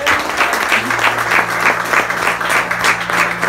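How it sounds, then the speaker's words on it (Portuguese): A church congregation claps together during a communion service, a loud rhythmic applause with steady pulses and a low sustained tone underneath. "Você pode aplaudir ao Senhor?"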